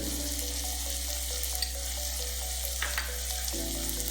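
Chopped shallots fry in hot coconut oil for a crab curry, a steady soft sizzle under a low constant hum, with a few faint clicks of the pan nearby.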